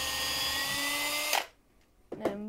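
A power drill whines loudly while driving a screw into a toy farm tractor build, a sustained buzzing run that stops abruptly, followed after a pause by a second short burst.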